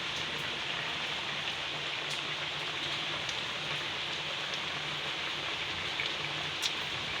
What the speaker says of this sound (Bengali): বাহিরে প্রচুর বৃষ্টি হচ্ছে আজকে।